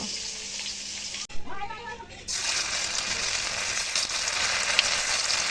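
Pieces of chhena, cottage cheese seasoned with turmeric and salt, frying in hot oil, a loud steady sizzle that briefly dips and then swells back stronger, close up with no talk.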